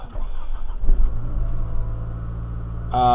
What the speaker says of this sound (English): This is the first start here, cold morning, she'll fire right up